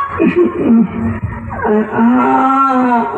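A cow moos in a rural Maithili village setting, two loud, close, drawn-out calls one after the other, with no other sound over them.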